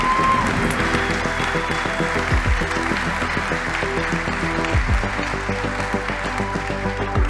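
An audience at a business forum applauds steadily to welcome its hosts, the clapping forming a continuous wash beneath loud background music throughout.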